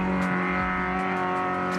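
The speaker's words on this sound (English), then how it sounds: "Good old American V8, baby, yeah!" An American V8 car engine revs hard and loud close by, a steady rich harmonic roar holding through the short burst without any speech.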